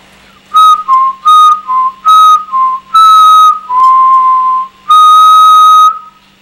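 A child whistles a series of short, loud, close notes in uneven bursts, wavering between two pitches, with a longer held note near the end.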